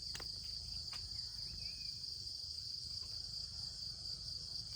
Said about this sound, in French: Il y a tous les grillons.